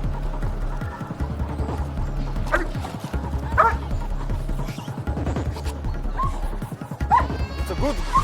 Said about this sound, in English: He doesn't like the dog barking in his face and tries to nip the Kangal.